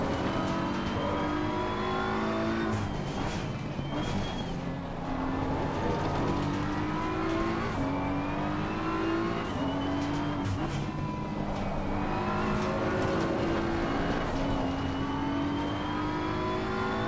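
A race car engine in Assetto Corsa Competizione drones loudly and continuously for the whole stretch, its pitch repeatedly climbing through the gears and dropping back as it accelerates and shifts on track.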